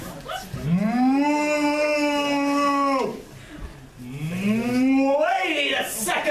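A person imitates a cow mooing aloud, giving two long, drawn-out moos, close and loud, with a short pause between them.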